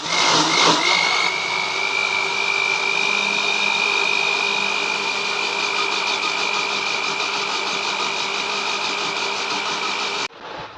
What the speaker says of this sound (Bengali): মিক্সারে এটা ফেটে নিব